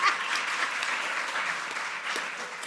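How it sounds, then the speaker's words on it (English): Continuous applause rises from an audience at a talk on Igbo history, a steady, moderately distant wash of many hands clapping with no voices over it. "you can clap, I don't mind"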